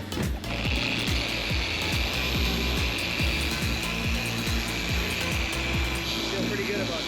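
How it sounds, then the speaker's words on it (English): A machine polisher works a square of a car hood with diamond cut compound, a steady close whirring drone with rhythmic pulsing grind, continuous and loud throughout. "I'm gonna do one square on the hood with a compound and a polish just to see what it comes out like."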